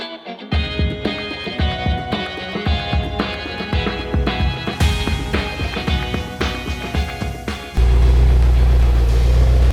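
A rebuilt BMW M5 drives along a main road, its engine and road rumble running steadily beneath busy rhythmic sound, then swelling into a heavier, louder low roar for the final two seconds.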